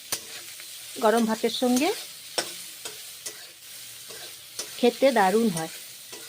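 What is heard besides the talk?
bitter gourd frying and being stirred with turmeric and salt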